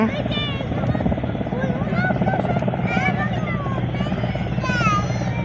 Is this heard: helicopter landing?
yes